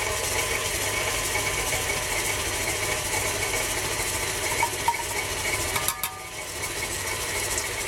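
An electric mixer creams butter while sugar is slowly added, giving a steady, close mechanical whir with a faint rattling texture and a brief clatter near the end.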